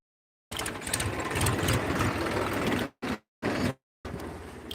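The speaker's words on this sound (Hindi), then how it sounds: "भैया ट्रैक्टर आ रहा है, हम लोग किनारे हो जाए थोड़ा।" A tractor engine approaching along a village road, with a loud, steady mechanical chugging that cuts out briefly twice before resuming.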